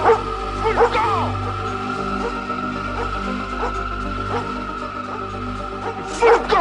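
A dog barks and yips in a 1988 French thriller, a few sharp barks near the start and end over a steady low hum, with someone shouting at it.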